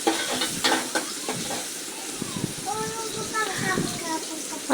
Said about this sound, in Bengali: এই যে পেঁয়াজ আর রসুন কুচি করে একসাথে দিয়ে দিছে